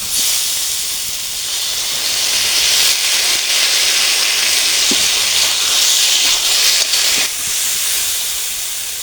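Ginger and cumin paste hits freshly fried ash gourd in hot oil, giving a loud, steady, close-up sizzling hiss that holds for about nine seconds with no voices.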